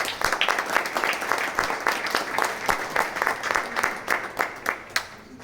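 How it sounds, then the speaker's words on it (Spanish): A crowd applauds steadily at a book presentation, a dense wash of clapping that holds for several seconds and thins out near the end. "Un fuerte aplauso también para él."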